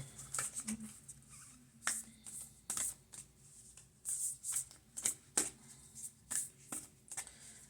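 Starseed Oracle cards shuffled by hand, close and soft, in quick irregular riffling bursts and light slaps with brief pauses between.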